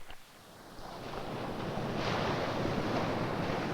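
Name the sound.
wind-driven waves reaching a lake shore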